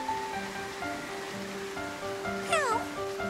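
A single short cartoon cat meow rises and falls near the end, heard over a steady musical background with gentle rain-like patter.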